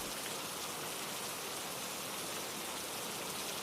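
Heavy rain pours down steadily in a dense, even hiss of drops beating on surfaces, constant and loud with no voices.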